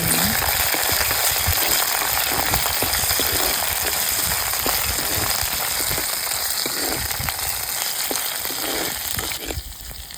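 Garlic frying in oil for a Coorg-style colocasia leaf curry, a steady close, loud crackling sizzle that continues without pause and eases slightly at the very end.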